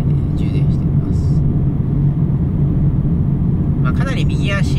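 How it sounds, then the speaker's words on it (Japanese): Honda Freed Hybrid with i-DCD drivetrain running its engine to charge the battery while driving in city traffic; a steady low engine and road rumble fills the cabin, with someone talking over it. "エンジンかけて充電しています。"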